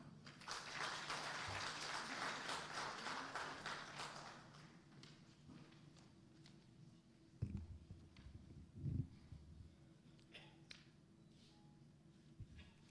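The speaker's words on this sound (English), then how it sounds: "Let's give a big round of applause to Honorable Kazuhide Ishikawa" Audience applause at a government ceremony in the Philippines, with dense clapping for the first few seconds that fades into scattered claps and faint room noise.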